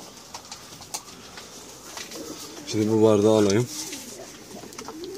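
A runaway pigeon that has visited a rooftop for five months gives a single short rolling coo, close and clear, after a woman's brief speech, with scattered rooftop noise around it.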